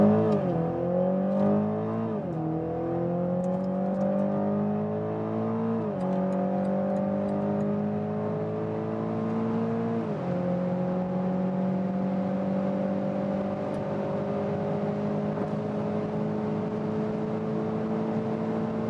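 A BMW Z4 30i G29 convertible with a four-cylinder engine accelerates hard, its engine note climbing in pitch through several gear changes with brief drops between, then holding a steady high drone with road noise.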